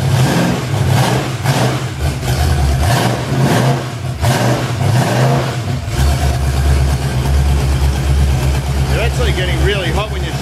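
A 1969 Ford Falcon XW engine idles with a steady low rumble, then surges into loud revs before settling back, with heavy mechanical noise throughout.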